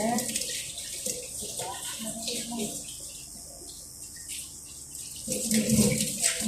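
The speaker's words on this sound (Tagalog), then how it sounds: "tap of water" Water from a kitchen tap runs steadily into a sink, a continuous close splashing hiss with a person talking over it.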